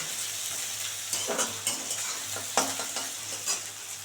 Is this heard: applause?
no